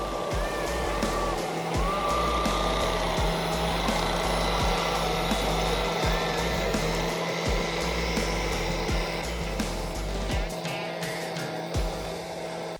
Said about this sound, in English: To remove it, the Kubota L39 wheel loader must dig up the surrounding soil before it can be pushed down.